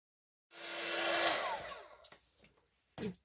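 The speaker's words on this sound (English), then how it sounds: "And now I will heat up the heat gun, and I'll also turn it down because the heat gun is a little bit noisy." A heat gun blows hot air during a paper craft project, a loud steady rushing roar lasting about a second and a half that then tapers off, followed by a few faint handling knocks.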